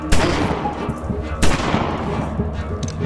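Two loud, sharp gunshots ring out in the video game Greyhill Incident, spaced over a second apart, each with a booming echo, against a busy background rumble.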